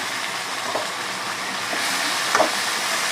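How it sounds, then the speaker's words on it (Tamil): Onions and tomatoes being sautéed in a pan for an egg kurma, a steady soft sizzle and hiss, close and continuous, with faint stirring scrapes and no talking. "தக்காளி சேர்த்து விட்டு தக்காளியும் நல்லா வதக்கி விட்டுக்கோம்."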